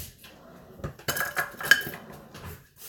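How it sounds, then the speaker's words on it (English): A metal teaspoon and measuring cup clink and scrape together while measuring almond flour, with a short cluster of bright, close clatters in the middle of a quiet kitchen. "I was about to use like this little teaspoon to measure like a cup of almond flour"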